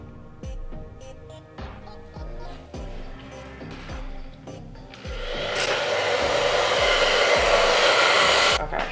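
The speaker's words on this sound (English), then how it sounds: "It can air dry, or you can use a cool dryer." A hair dryer on its cool setting blows over lace adhesive, switching on halfway through as a loud, steady whoosh that drowns out the rhythmic music playing beforehand, then cutting off near the end.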